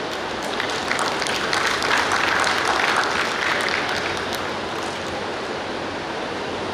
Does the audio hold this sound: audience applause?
yes